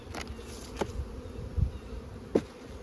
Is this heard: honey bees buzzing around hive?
yes